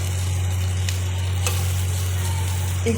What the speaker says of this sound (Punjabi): ਆਪਾਂ ਇਹਨਾਂ ਨੂੰ ਥੋੜੀਆਂ ਜੀਆਂ ਜ਼ਿਆਦੀਆਂ ਡੀਪਲੀ ਨਹੀਂ ਫਰਾਈ ਕਰਾਂਗੇ ਥੋੜੀਆਂ ਜੀਆਂ ਫਰਾਈ ਕਰਾਂਗੇ